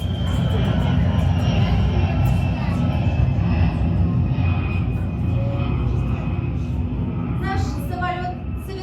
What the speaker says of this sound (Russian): Наш самолет совершит посадку в удивительном месте.